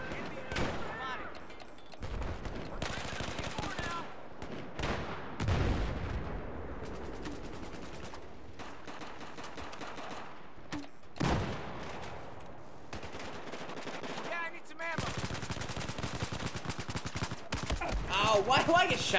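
Gunfire in the first-person shooter Battlefield 4, including pistol shots, comes as repeated sharp bursts and single cracks throughout. Heavy explosive thumps and game noise surround the shots, and someone talks over parts of it.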